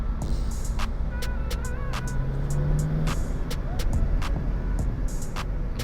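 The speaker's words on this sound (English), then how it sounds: "I'm in 3rd gear, and it just literally picks up so much." A manual Seat Leon 1P FR 170 with a RaceChip XLR tuning module pulls hard in third gear, a continuous engine drone heard from the cabin with road and wind noise and occasional clicks.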